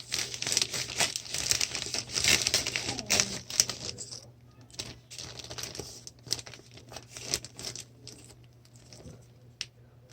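A large plastic bag being sealed with a smaller vinegar bag inside, giving close crinkling and rustling of plastic with irregular clicks and crackles, busiest at first and then thinning into scattered sharp crinkles.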